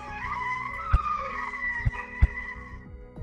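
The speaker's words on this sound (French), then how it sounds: "Vous êtes en train d'écouter des sons reconstruits grâce aux ondes cérébrales" Warbling, screeching sound rebuilt from brain-wave recordings, resembling a drifting car's squealing tires, sustained with a few sharp thumps and sliding tonal sweeps.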